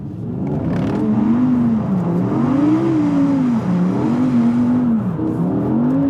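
A 2021 Audi R8 V10 supercar drives hard, its engine note rising and falling through repeated revs and gear changes, loud and sustained from inside the car.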